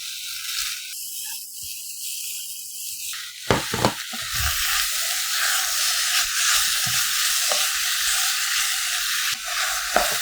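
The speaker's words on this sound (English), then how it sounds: "Okay, stir fry kimchi and pork well." Kimchi and pork stir-frying in a pan, with a steady close sizzle broken by scraping stirs and a few sharper clatters of the utensil against the pan, and no voices.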